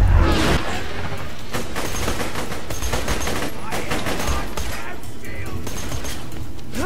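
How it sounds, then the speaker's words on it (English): Rapid bursts of enemy gunfire crackle through a Borderlands 2 firefight, dense and continuous with overlapping volleys and shots, while a voice talks over the shooting. "Well, they want to shoot at me now."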